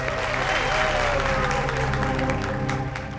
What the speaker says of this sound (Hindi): क्या बात है, तालियां बनती है इस बात पे